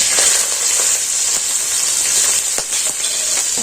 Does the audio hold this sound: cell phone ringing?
no